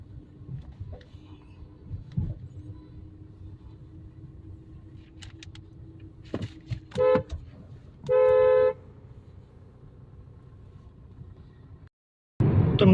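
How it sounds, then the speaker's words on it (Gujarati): A car drives along the highway from Mehsana toward Patan, giving a steady low road and engine rumble, broken by a few sharp horn toots and one longer horn blast near the end. "તો મિત્રો આપણી ગાડી જઈ રહી છે હાઈવે ઉપર."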